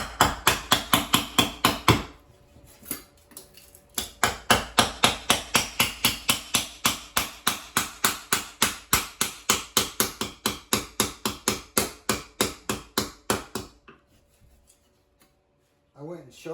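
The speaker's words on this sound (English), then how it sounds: "Bigger hammer works every time." Heavy hammer blows on a chisel splitting thick granite, struck in a steady rapid rhythm of sharp metallic impacts, pausing briefly near the start and stopping toward the end; close and loud.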